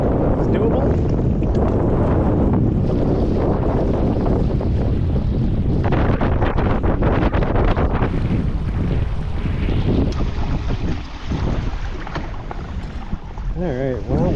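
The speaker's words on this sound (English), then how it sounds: "that wind was so gnarly" Strong gusting wind batters the microphone aboard a fishing boat on open water, a loud, continuous rumbling roar that eases slightly near the end, with a voice heard faintly beneath it.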